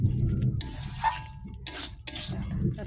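A spoon stirs cumin, mustard seeds and dried chilli in a pan, making clinks and scrapes over a soft sizzle in several short bursts, close by, with no speech.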